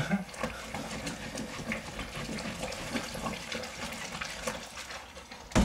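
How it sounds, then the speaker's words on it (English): Kitchen tap water runs continuously into a sink during dish washing, a soft steady splashing hiss with occasional clinks, fairly quiet throughout. "I love doing the washing up"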